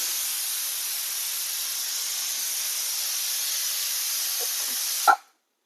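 A pressure cooker lets off a steady, loud hiss of escaping steam for several seconds, then it cuts off abruptly into silence.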